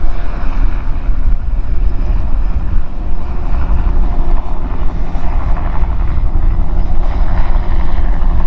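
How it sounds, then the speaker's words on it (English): A helicopter flies over a lake while someone is out bass fishing, heard as a loud, continuous low rumble and rotor drone that stays steady throughout. "I believe I get more helicopters following me fishing"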